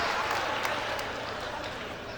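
A crowd at a FlipTop rap battle breaks into applause, a dense, loud wash of clapping filling the moment without a break.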